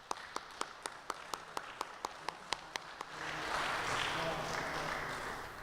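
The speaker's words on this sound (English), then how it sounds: "one more time for a round of applause for our veterans in the room" A crowd at the City of Lynn Korean War Memorial Ceremony applauds for veterans. It opens with about a dozen evenly spaced single claps, then swells into broader, continuous applause.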